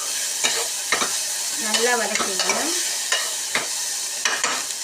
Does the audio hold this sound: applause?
no